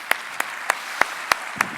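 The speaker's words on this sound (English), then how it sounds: "I think that is worthy an applaud" Six separate, evenly spaced claps ring out sharply in a conference hall at the opening of the Mobile World Congress Africa in Rwanda, each one a distinct crack against a quiet background.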